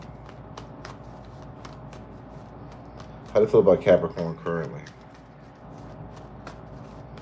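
A brief riffle of tarot cards being shuffled, a quick run of crisp flicks at moderate volume, with a person speaking just before.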